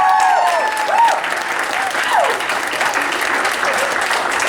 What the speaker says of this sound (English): would you give a very nice round of applause to our judges who judged you today